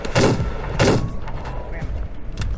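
Lancaster Pistol shots in The Wild West video game, two loud, sharp reports about half a second apart, followed by fainter clicks and a later lighter shot, with a voice talking faintly underneath.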